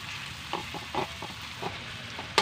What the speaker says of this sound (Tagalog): Lutong-luto yung kamatis bago natin ilagay yung buro natin.